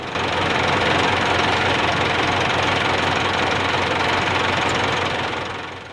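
A tractor engine pulling a Stanhay precision seed drill runs steadily and loudly up close, a dense continuous rumble that holds level for several seconds before easing off at the end.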